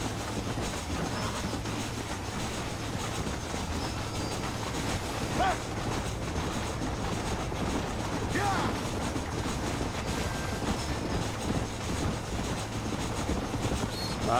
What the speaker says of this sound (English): Train engine.